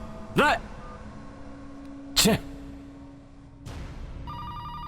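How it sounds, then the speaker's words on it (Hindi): A phone rings in two short electronic trills spaced apart, over a steady low hum and background noise, with a muffled thump afterward. "भाई विजय का फोन आ रहा है"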